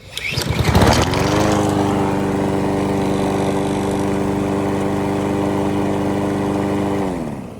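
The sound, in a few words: Honda lawnmower engine running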